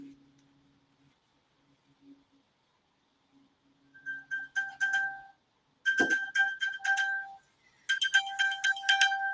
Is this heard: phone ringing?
yes